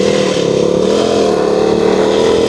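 A KTM Duke 390 motorcycle engine revving while riding, a loud, close, steady mid-pitched drone that holds through the short stretch without pause.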